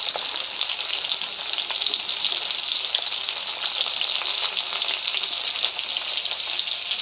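Fish dal with a little added gourd frying in a pan, giving a steady, loud, even sizzle that fills the whole stretch with a bright hiss and no voices.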